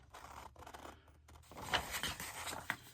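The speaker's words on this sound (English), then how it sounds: "So I'm actually going to cut those out with a pair of scissors" Paper being cut with a long pair of scissors while preparing junk journal pieces, close and fairly quiet, with a few soft snips and crisp blade closes standing out over light rustling in the second half.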